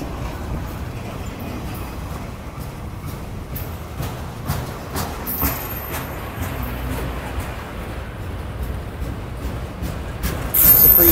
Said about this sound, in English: This is about one of the longest Florida East Coast trains I've ever seen, or freight train in general.